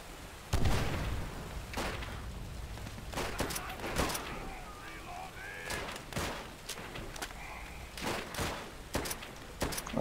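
Machine gun fire rattles in Call of Duty: World at War, with short bursts and sharp shots scattered across about ten seconds amid distant booms, moderately loud, with a voice briefly heard over the battle.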